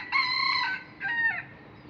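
A rooster crows in two bursts, the first long and drawn out, the second shorter, loud and close with no talking.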